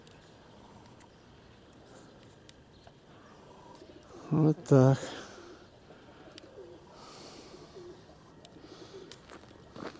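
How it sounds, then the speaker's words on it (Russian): Two short bursts of pigeon cooing close by, breaking a quiet background, with a brief spoken remark nearby. "У меня голуби тут"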